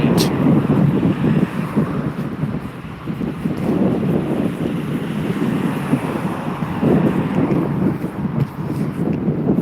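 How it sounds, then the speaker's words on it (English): Strong wind gusting outdoors around a railway area, buffeting the microphone as a loud continuous roar with people talking over it. "It's taking me forward because there's wind."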